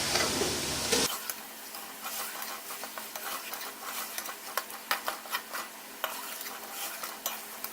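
Masala frying and being stirred in a karahi for Lahori-style chicken karahi, with a steady sizzle under repeated scraping and clinking of a spoon against the pan, close and fairly loud, with no talking.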